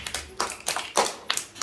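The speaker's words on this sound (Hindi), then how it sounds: "ताली बजाओ ताली" Small children at an anganwadi preschool clap their hands in a quick, uneven run of sharp claps, close by and fairly loud, with no talking over it.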